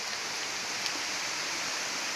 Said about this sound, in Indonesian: Kita bisa melihat air terjun langsung, air terjunnya, pemandangannya sungguh sangat menakjubkan.